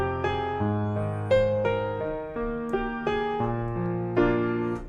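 Solo piano plays the instrumental interlude of a song: broken left-hand fifths under a right-hand melody, each chord struck and left to ring, moving slowly through the progression alone and close up.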